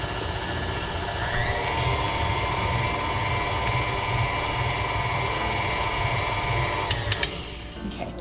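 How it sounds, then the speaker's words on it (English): Stand mixer whirring steadily as it blends flour into a lemon ricotta loaf cake batter, a continuous close motor hum with a brief rattle near the end. "So I just go ahead and do a quick mix in the stand mixer."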